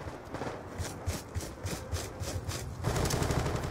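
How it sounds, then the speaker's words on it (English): Rapid bursts of machine-gun fire in a video game, rattling in quick repeated volleys that grow denser and louder toward the end. "He is fucking shooting at him."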